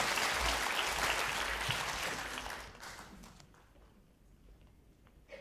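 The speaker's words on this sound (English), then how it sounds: "Can we give a round of applause for Dr. Wong?" Seminar audience applauds a speaker, Dr. Wong, with a full burst of clapping that fades out over a few seconds into near quiet with a faint tap at the end.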